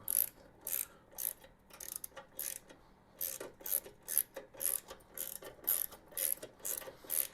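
A ratchet wrench tightens bolts while a Lifan KPT 400cc motorcycle is assembled, giving a steady series of quick, close clicking strokes, about two per second, with no one talking.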